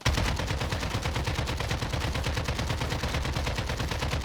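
An AK rifle fitted with a compensator and RPK barrel fires in Warzone, a rapid, continuous full-auto stream of sharp, evenly spaced shots, loud and close, with no voices over it.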